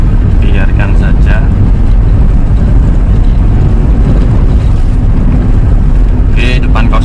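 Inside a 2002 Toyota Kijang LGX 2.0 EFI as it accelerates along a road at about 60 km/h, a steady, loud low engine and road drone runs throughout, with brief higher-pitched sounds near the start and end.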